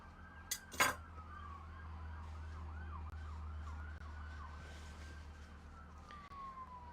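Police car sirens wail as they pass outside a home sewing room, a loud up-and-down yelp that swells and then fades. A couple of sharp clinks sound near the start, and a steady low hum runs underneath.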